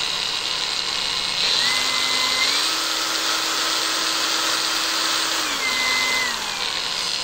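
An APR AP22 Pro cordless battery grinder runs steadily on its own, a continuous high motor whine that shifts up and settles as its three speed settings are changed, with no talking over it.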